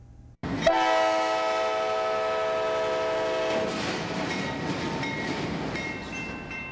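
A train sounds its horn loudly at a railroad crossing in Decatur, a sustained multi-tone blast that then gives way to the rumble and clatter of railcars rolling past, with no talking.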